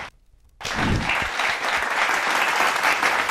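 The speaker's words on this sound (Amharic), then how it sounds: "ኦኬ፣ እኛም በእንግሊዘኛ ጨብጭቡልን" Studio audience applause on an Ethiopian television talk show bursts in after a brief quiet start, then holds as dense, steady clapping from many hands close by.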